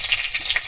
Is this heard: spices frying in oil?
yes